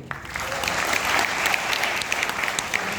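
Audience at a college event in Narayanganj clapping together, a dense, sustained round of applause from a crowd in a hall, loud and continuous for the whole stretch.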